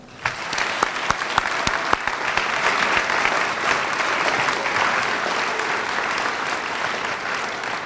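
An audience fills a high school awards ceremony hall with steady, dense applause. A few sharp, close claps open it, then the clapping swells into an even wash that holds to the end.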